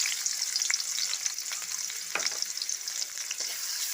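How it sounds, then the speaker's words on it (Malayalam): Chopped onions frying in hot oil for a Kerala-style roasted-coconut mutton curry, a steady close crackling sizzle with small pops and a few stirring scrapes, no voices. "ഇതിലേക്ക് നമുക്ക് ആദ്യമായിട്ട് അരിഞ്ഞു വെച്ചിരിക്കുന്ന ഉള്ളി ഇട്ട് കൊടുക്കാം"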